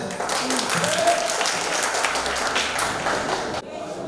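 An audience at a Human Rights Day event applauds a speaker, a dense and steady wash of clapping that stops abruptly near the end, with a voice faintly audible over it.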